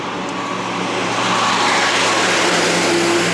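A car engine strains and revs as it climbs a very steep hill near Gülümbe, Bilecik, loud and close with a steady rising drone.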